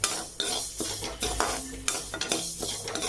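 Fenugreek seeds dry-roast in a pan for a curry masala powder, stirred with a utensil in repeated scraping strokes and light clinks, close and fairly loud.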